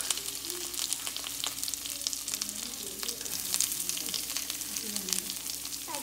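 Onion goes into coconut oil with mustard seeds, curry leaves and ginger for Kerala masala egg roast, giving a steady close sizzle with light crackles and occasional stirring, a faint voice murmuring underneath.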